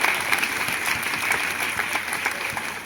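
Near, energetic clapping from an audience at a school enrolment festival in Gujarat, a continuous round of applause with many hands heard close by.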